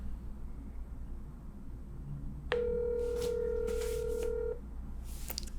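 A telephone rings out on a call nobody answers: a single steady electronic ring tone sounds for about two seconds over low background hiss, followed by faint clicks.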